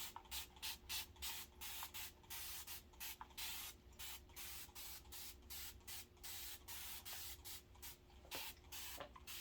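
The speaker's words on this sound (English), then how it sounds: "you're going to give it a nice misting spray" A spray bottle is pumped repeatedly in a steady rhythm, each quick misting hiss following the last, close and fairly soft, misting fabric for quilting.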